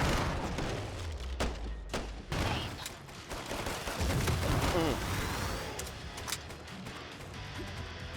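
Rapid gunfire from the zombie shooter Killing Floor 2, with bursts of shots and heavy thuds hitting zombies in a Halloween level, loud and dense throughout, mixed with game effects.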